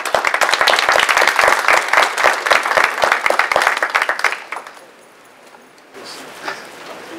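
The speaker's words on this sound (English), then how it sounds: "Let's give them another round of applause." A crowd applauds with dense, lively clapping that fades out after about four seconds, leaving a quiet room with faint murmuring.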